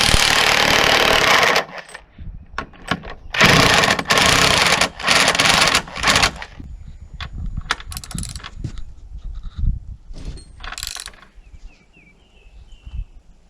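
An electric impact driver drives screws while building a sawmill shed, with several loud, close rattling bursts of a second or more separated by quieter gaps filled with small knocks and handling clicks.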